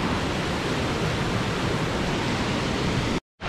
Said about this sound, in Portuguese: Aqui nós temos essa corredeirinha.